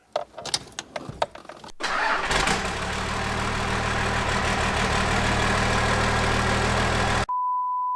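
A project car's engine cranks and catches inside a garage after a few clicks and clunks, then settles into a loud, steady idle that runs for several seconds before cutting off, followed by a short electronic beep.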